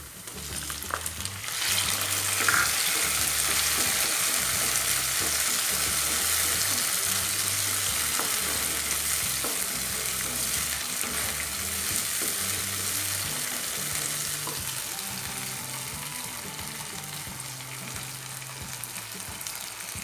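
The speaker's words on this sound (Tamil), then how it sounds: "தக்காளி பழம் நல்லா வதங்கணும்." Chopped tomatoes sauté in a pan for drumstick masala curry, a dense steady sizzle running throughout with occasional scrapes and taps of stirring, near and with no talking.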